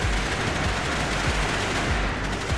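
A machine gun fires in the game NIMRODS: GunCraft Survivor, with rapid, evenly spaced shots thumping continuously and loudly with no pauses or voices.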